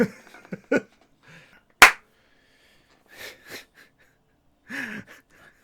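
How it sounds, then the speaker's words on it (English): Several sharp, loud hand claps ring out at irregular intervals, separated by short quiet gaps and a few faint breathy sounds. "Unnecessarily loud with the claps."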